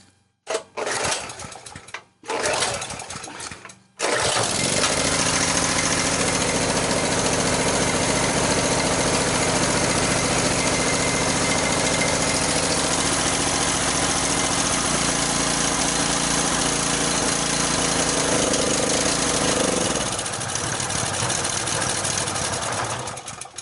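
A portable generator, just repaired, starts after a few brief rattling attempts and settles into a loud, steady engine drone close by, running continuously until it cuts down near the end.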